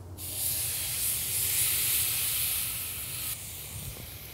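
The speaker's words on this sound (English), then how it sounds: "So now let's get this on the grill grates." Seasoned meat hits hot grill grates and sizzles, a loud, steady close hiss that swells and then drops slightly toward the end, with no talking.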